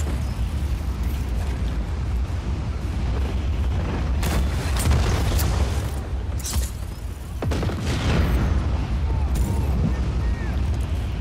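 Explosions burst repeatedly from a destroyed cannon in the video game Just Cause 4, with a continuous low rumble and several sharp booms and crackling blasts spread across the scene, while a voice speaks occasionally.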